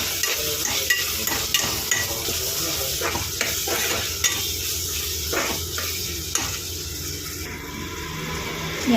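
Goat head curry with turmeric powder is stirred in a pan, a steady sizzling fry broken by repeated scraping strokes of the spoon, loud and close throughout.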